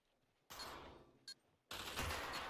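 Gunfire in the Pavlov VR shooter game comes as two sustained bursts of loud, dense rapid fire with a short sharp shot between them, close and harsh with no talking.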